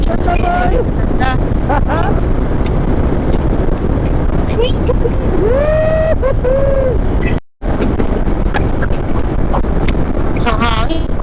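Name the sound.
wind noise during a motorcycle ride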